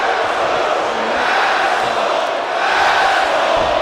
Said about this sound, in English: And again, it doesn't matter how much this crowd is upset with Justice Fitzgerald being in control.